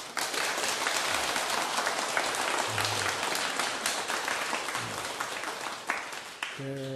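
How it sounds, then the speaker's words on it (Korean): A lecture audience applauds for a couple celebrating their 23rd anniversary, with sustained, dense clapping from many hands at a steady level and a few faint voices beneath. "박수 한번 부탁드릴게요"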